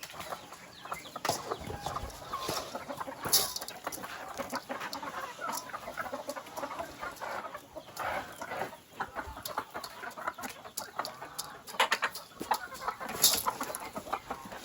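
Chickens cluck steadily at close range, with scattered louder squawks and sharp calls breaking through a busy farmyard background.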